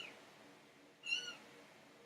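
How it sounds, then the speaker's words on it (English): A single faint, high, thin mew from a newborn kitten in a recording booth rises briefly over quiet background hiss, small and delicate. "You hear them? Yeah. So, for the most part, I have kittens."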